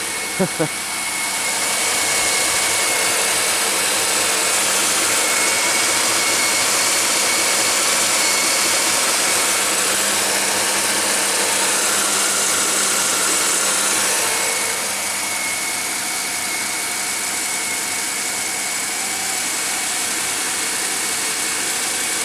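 A Grand Am car engine idles in a steady hum at close range in cold weather, holding level for a long stretch before dropping slightly in loudness near the end.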